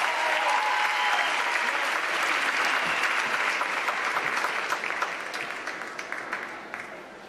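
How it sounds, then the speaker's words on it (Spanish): A large crowd applauding loudly for a couple at a tango dance competition semifinal, the clapping sustained and then slowly tapering off toward the end. "fuerte el aplauso para la pareja 228"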